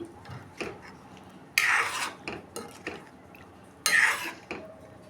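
Gulab jamun balls are stirred in sugar syrup in a metal pan, giving a few sharp scraping rasps of a spoon against the vessel among softer wet shuffling, close and quiet.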